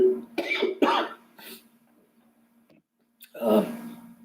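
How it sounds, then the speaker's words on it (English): Several harsh, throaty coughs in quick succession from a man, close and fairly loud, followed by a pause and one more rough cough burst. "I'm getting myself worked up to a cough."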